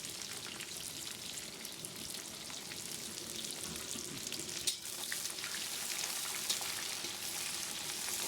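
Onions and dried chillies fry with chicken in a pan, giving off a steady, dense sizzle with crackling pops, fairly soft and uninterrupted, with no voices.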